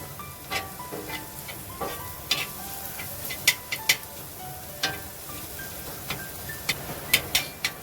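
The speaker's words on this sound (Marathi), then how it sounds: "चांगले मसाले असे भाज हे करून घेऊया शिजवून घेऊया कांदा टोमॅट्यात" Onion and tomato masala cooking in a pan for a shellfish dish, giving a soft steady sizzle broken by scattered spoon taps and scrapes against the pan.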